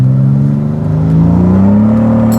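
A BMW E36's engine revs up loud and close, its pitch climbing steadily over a couple of seconds as the car accelerates hard, with no talk over it.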